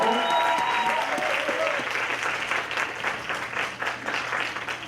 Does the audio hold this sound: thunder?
no